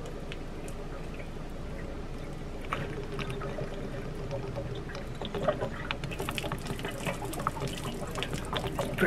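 Water gushing and splashing as it drains out of an RV water heater, a steady rushing flow close by that grows a little louder and more turbulent toward the end.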